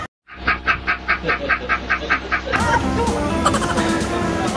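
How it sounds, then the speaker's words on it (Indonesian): Ducks at a picnic farm park quack in a quick regular run of about ten calls, loud and close, then a noisier outdoor scene with mixed bird sounds and background activity. "Afri pengen nangkep bebek itu guys"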